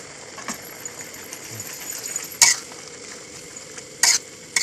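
Bubbling curry simmers steadily in a pan with fermented bamboo shoots and kaffir lime leaves, with a few sharp scraping clinks from stirring near the end.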